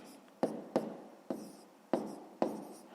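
Pen strokes scratching on paper as an answer is written out by hand, five short sharp taps each trailing into soft scratching, close and quiet with no talk.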